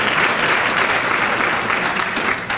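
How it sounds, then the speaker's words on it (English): An audience at a mayor's state of the city address breaks into loud, sustained applause, a dense continuous clatter of many hands that tapers slightly at the very end. "That's worth a clap, absolutely."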